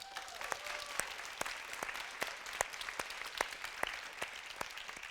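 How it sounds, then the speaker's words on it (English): An audience in a conference room claps steadily, a dense, even patter of many hands with a few sharper individual claps standing out, sustained throughout without talk. "huge hand of applause to them"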